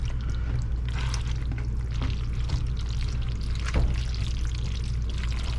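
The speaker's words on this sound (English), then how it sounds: "we're gonna go ahead and dump in the pasta that we drained earlier, and give that a go" Drained pasta dumped into a pot of simmering goulash, a soft wet pour and squish of noodles sliding into the sauce, steady and close with a low background hum and no talking.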